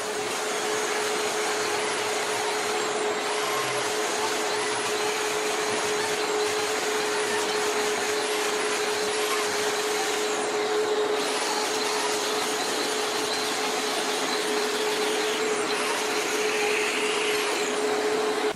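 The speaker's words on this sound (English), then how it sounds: "we demonstrated the cleaning out of the expansion joint or the control joint, whatever you like to call it, with the diamond wheel" A 4-inch grinder with a diamond wheel cleans out a concrete floor expansion joint, a loud continuous whine with a steady tone and grinding hiss, unbroken throughout.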